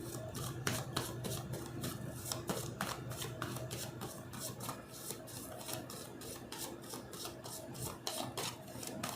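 Tarot cards are shuffled in a steady run of quick riffling, rasping flicks at close range, continuous for several seconds with no talking over it.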